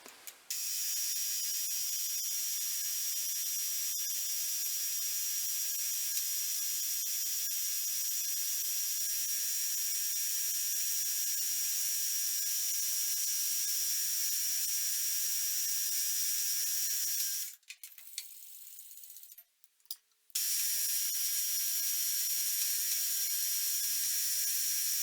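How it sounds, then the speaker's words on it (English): A metal cross head part for a PM Research Number 4 model engine is being machined, giving a steady, loud mechanical whine that runs continuously and breaks off briefly about two-thirds of the way through before resuming. "Less talk, more machining."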